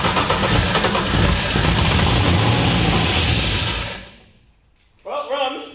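An LS1 V8 swapped into a BMW E46 runs loud and continuous for about four seconds, then shuts off to near silence before a brief burst of activity returns.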